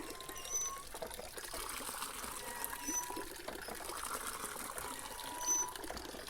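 Water gushes and trickles from a hand lever pump, a steady pouring flow with faint squeaks of the lever at regular intervals, close by and moderately quiet, with no talking.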